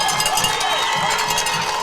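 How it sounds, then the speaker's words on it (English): A high school football crowd at Marana vs Mountain View roars and cheers after a fumble turnover, loud dense shouting with cowbell-like clanks, continuous throughout. "the crowd is going crazy"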